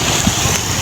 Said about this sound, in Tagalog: Mahangin pa rin po hanggang ngayon.